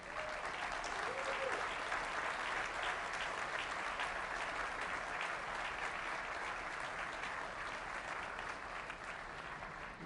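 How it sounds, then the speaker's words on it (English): An audience claps steadily at a NASA briefing on the James Webb Space Telescope, sustained, dense applause lasting the full span without a break. "you got some rounding applause there for a great tour"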